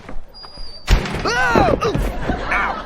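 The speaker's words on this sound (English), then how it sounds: "The door swings back and hits George, who falls over, sending the contents of the box spilling onto the sidewalk." A door swings back and slams into a person on a city sidewalk, giving a sharp, loud thud, followed by the clatter of a box's contents spilling and a scuffle with voices.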